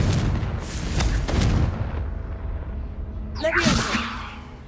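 In Hogwarts Legacy, a Confringo fire spell is cast in combat: several booming, crackling blasts in the first two seconds, then a sharp whooshing fiery burst near the end, all loud and close.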